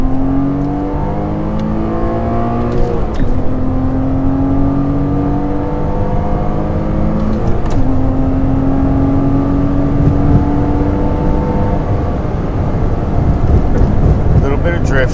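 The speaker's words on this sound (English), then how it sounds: "We're driving the Cayman with all its quirks and features." A Porsche Cayman engine heard from inside the car while driving, with strong, rising revs that climb through gears, break off at the shifts and climb again, loud and close over steady road and wind noise.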